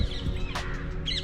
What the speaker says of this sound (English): you can hear all the birds and the insects and stuff like up in the trees